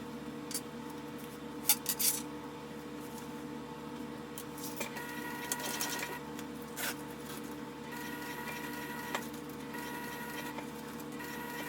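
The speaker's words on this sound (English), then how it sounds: "I'm going to start sewing again just like I did the last time" Sewing machine stitching fabric, running in a couple of sustained whirring stretches with a steady motor hum, separated by quieter pauses and light handling rustles of the cloth.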